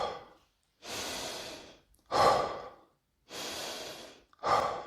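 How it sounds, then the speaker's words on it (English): Heavy recovery breathing after exercise burn reps: four long, loud breaths, inhales and forceful exhales alternating with short pauses, close and alone with no talk. "And I start my recovery breaths immediately."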